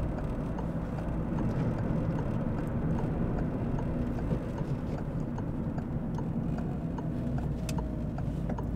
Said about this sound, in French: Donc, clignotant.